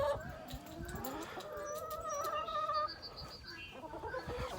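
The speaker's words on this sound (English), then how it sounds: "Chickens." Chickens cluck and chatter nearby in a busy, uneven stream of calls, with some background noise.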